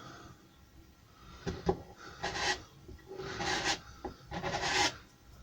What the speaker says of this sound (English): If you have to, just give it a light sand.